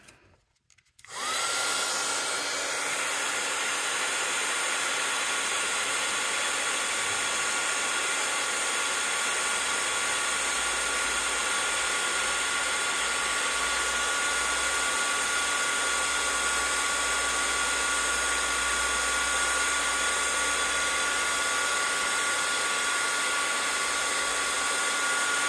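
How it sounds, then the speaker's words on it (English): A heat tool blasts hot air onto embossing powder while colouring a flower, starting with a click and then running as a steady, loud whirring hiss for over twenty seconds with no talk. "And now we're gonna heat that."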